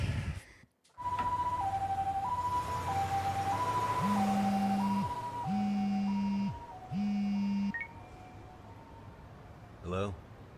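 An ambulance siren from the video game Lost Judgment wails in a repeating two-tone pattern over engine rumble, joined midway by a second looping tone and horn-like blasts before cutting off.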